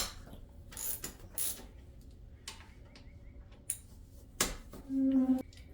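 A ratchet works on the brake calipers of a Harley Davidson XR1200, giving several short, separate clicks and mechanical clacks between quiet gaps, close and with no talking.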